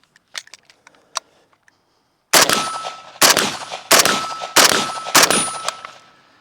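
Five sharp, loud AK-47 rifle shots ring out at a steady deliberate pace, each crack followed by a short decaying echo, preceded by a few faint clicks and handling taps.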